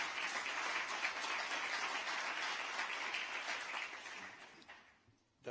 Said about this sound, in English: that applause is not for the hope, it's for the pressure